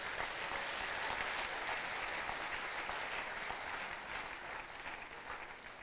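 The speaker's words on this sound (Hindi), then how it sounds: "आपके लिए एक जोरदार तालियां होनी चाहिए।" Audience applause from a crowd, steady dense clapping held at an even level throughout with no voices over it, easing slightly toward the end.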